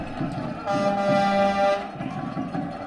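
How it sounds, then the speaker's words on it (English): A loud, sustained stadium air horn blast rings out over a noisy high school football crowd, holding steady for about a second before fading back into the general din. "I want to be that guy pressing the horn"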